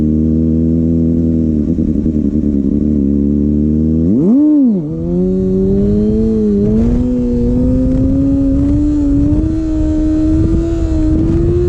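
A Kawasaki Ninja ZX-6R motorcycle engine revs hard during a wheelie, holding a loud steady drone that dips briefly, surges back up and then climbs gradually in pitch.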